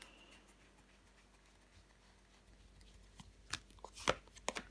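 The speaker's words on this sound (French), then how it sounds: "on va recouvrir la reine de Pentacle" Tarot cards are handled and laid down one over another on a table, with soft brushing at first and then a cluster of crisp slaps and clicks near the end, close and quiet with no voices.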